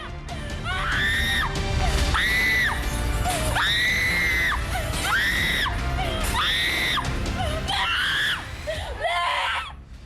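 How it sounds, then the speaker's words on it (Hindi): Women and girls scream from inside houses during attacks on minorities in Bangladesh: a loud run of about seven shrill, sustained cries, one after another, over a noisy, rumbling crowd background. "घर के अंदर से महिलाओं और लड़कियों के चीखने की आवाजें आ रही हैं"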